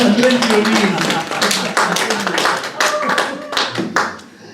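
Audience members at a live magic lecture clap for a volunteer, a brief burst of uneven hand claps mixed with talking voices that tapers off within a few seconds.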